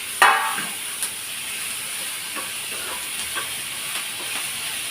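Tomatoes frying in a pan for pappucharu, a dal soup, give off a steady close sizzle and hiss with a few small pops and clicks near the start. No voices are heard.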